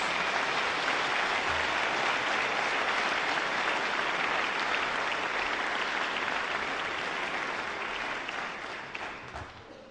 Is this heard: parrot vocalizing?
no